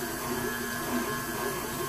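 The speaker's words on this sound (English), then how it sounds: "KitchenAid mixer is awesome." A KitchenAid stand mixer creaming cake batter hums with a steady motor whine and a constant mechanical drone, close and moderately loud, with no spoken words over it.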